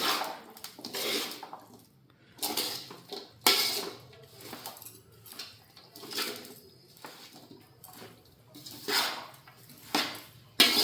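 Mango pickle being stirred in a pan, with repeated clinking and scraping of a spoon against metal in uneven bursts, fairly close, no talking.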